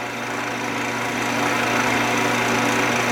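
A wood lathe spins an unfinished willow bowl at roughly 1500 RPM, giving a continuous loud motor hum with a steady whirring tone that holds evenly for a few seconds, no voices.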